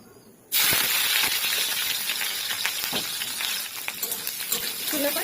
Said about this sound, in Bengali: তেলটা গরম হয়ে গেছে উচ্ছেগুলোকে ভেজে নেবো